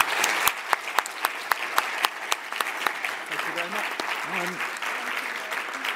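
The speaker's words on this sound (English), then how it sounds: "we could give them a big round of applause" An audience gives a round of applause for a panel of speakers, steady clapping running the full length with a few sharp individual claps standing out, while a voice talks over it near the end.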